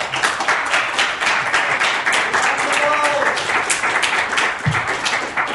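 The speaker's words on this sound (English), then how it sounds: "let's give a huge round of applause for Dragor." A live show audience claps and cheers for a performer, broad sustained applause with scattered voices and a brief thump near the end.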